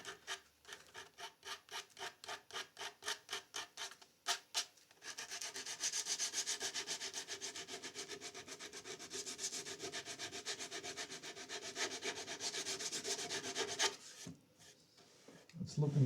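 A custom guitar body being sanded by hand with sandpaper: short rhythmic rubbing strokes at first, then a long continuous scratchy rasp, close and fairly quiet, with no talking.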